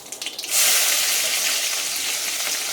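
Cumin, green chili and garlic hit hot oil for a Marathi-style ghaasa bhaji tempering, bursting into a loud, steady sizzle after a half-second of quieter crackle and holding close and continuous throughout.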